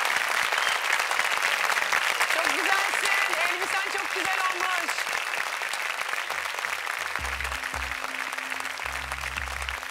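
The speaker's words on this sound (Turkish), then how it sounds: "Evet, İlke Yıldız'ı alkışlıyoruz" Studio audience applauding a contestant on a Turkish folk-song competition show, loud continuous clapping with a presenter's voice over it and music coming in near the end.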